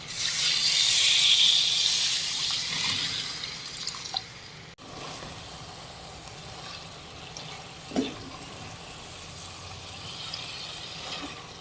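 Mutton cooking water poured into a pan of mutton sukka, a loud rushing sizzle at first that settles into a quieter simmering hiss with a single clink partway; no voices.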